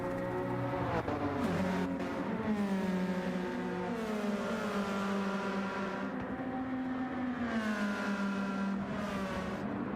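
GT500 race cars at full throttle around the Suzuka circuit, a steady loud engine roar with rising and falling pitch as cars pass and shift, continuous for the whole stretch with no talk.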